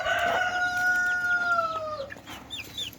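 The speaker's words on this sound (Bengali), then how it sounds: "যে মোরগটা এইমাত্র ডাকলো" A pet rooster crows once, nearby and clear, in a long drawn-out call, followed by a few softer clucks and faint bird chirps.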